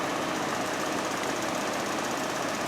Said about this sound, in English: Alright, I just heard the compressor kick on.